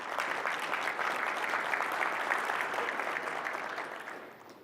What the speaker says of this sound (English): All of you need to give Neil a round of applause right now.